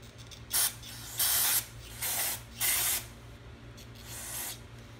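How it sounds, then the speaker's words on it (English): Several short hissing bursts from a spray can of cleaner on a 1997 Snapper mower, about five sprays of varying length with brief pauses between, close and clear. "So let's go get myself a rag and spray this off."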